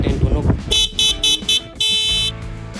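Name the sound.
stock motorcycle horn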